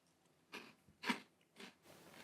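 Crunchy Elf on the Shelf Sugar Cookie Cereal being chewed up close, with three or four soft crunching bites spaced across a quiet moment and no talking.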